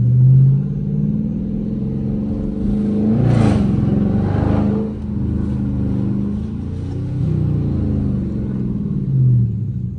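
A Dodge Charger R/T's engine rumbles and revs steadily while the car drifts through corners, with a louder rising rev surge midway. The sound is close and continuous throughout, and no one speaks.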